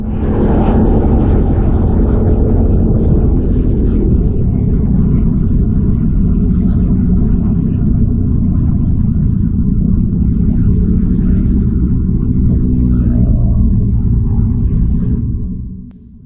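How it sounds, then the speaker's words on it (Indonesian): Street ambience from a GoPro Hero 9 built-in microphone with wind reduction on auto, a continuous loud low rumble of passing cars and motorbikes that fades out at the end. "cuma ketangkap suara ambience-nya itu ya cuma mobil dan motor sekitar"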